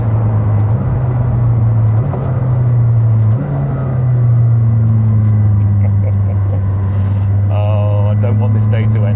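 A McLaren 620R on the road gives a loud, steady low engine drone with small pitch shifts as revs change, heard from inside the car beneath ongoing speech.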